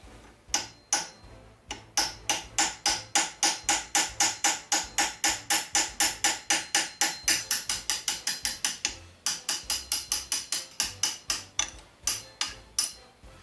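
A metal punch hammered against the stuck shaft of a Consew 99 industrial sewing machine, a long run of sharp, evenly spaced ringing blows close by, with a brief pause partway.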